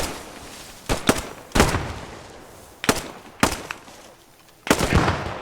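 Gunfire in the video game Post Scriptum, about six sharp shots spaced irregularly over a quiet background, fairly loud and close, with short decaying echoes.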